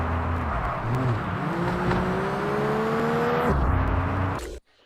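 Car engine revving in the racing video game PGR 2001, a steady droning whine that climbs in pitch, drops with a gear change and rises again, loud and continuous before cutting off abruptly at the end.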